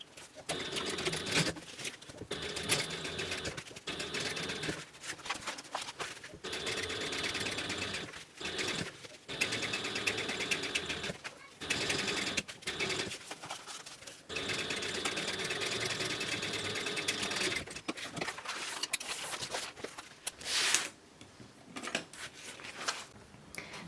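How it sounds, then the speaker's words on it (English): A sewing machine top stitches the fabric of a book bag, whirring steadily in long runs broken by brief stops, close and fairly quiet with no talking. "for the top stitching, you want to top stitch on this side of the fabric"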